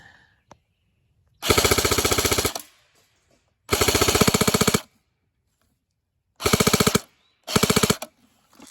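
A CYMA airsoft M4 fires on full-auto in four rapid mechanical bursts, each a second or so long, separated by short silences, loud and close.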